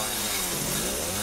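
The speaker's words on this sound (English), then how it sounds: "Why didn't you just rip daddy's scissor chainsaw?" Chainsaw in Resident Evil 7 snarls loud and close, its engine pitch rising and falling in a steady rev through the whole short burst.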